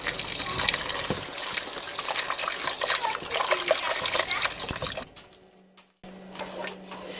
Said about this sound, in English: Add some more broth.